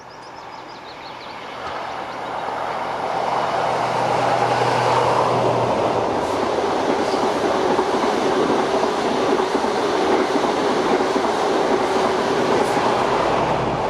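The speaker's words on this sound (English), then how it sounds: "I catch the Pullman train just to the north of Dumfries" A Pullman charter train passes just north of Dumfries, a loud sustained rumble of wheels and carriages with faint clickety-clack, building over the first seconds and then holding steady and near.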